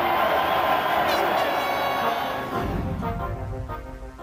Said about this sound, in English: All the Argo fans lining the streets. Look at them all. They're all cheering for us.